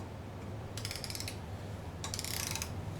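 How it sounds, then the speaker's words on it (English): Two short bursts of rapid ratchet clicks from a torque wrench tightening a T40 Torx bolt on a 2010 Harley FLHTC motorcycle, close and fairly quiet, with no talking. "we're going to torque this down to 23 nanometers"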